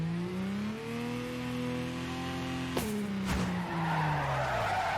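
Car drifting in the PC racing game Torque Drift, a sustained engine drone with shifting pitch and a long tire skid squeal, loud and continuous with no talking.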